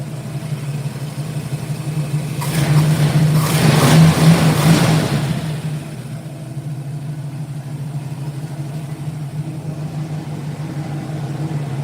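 A 1965 Ford Mustang with a 289 V8 idles steadily with a low rumble, then revs up briefly for a few seconds before settling back to a smooth, even idle, close by.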